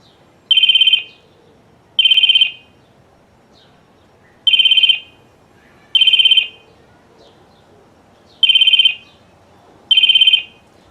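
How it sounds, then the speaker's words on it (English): A very shrill mobile phone ringtone sounding outdoors near a pool, six sharp, evenly spaced electronic ring bursts with short silences between them, loud and clear. "I have it on that very, very shrill ringtone because that carries over far distance"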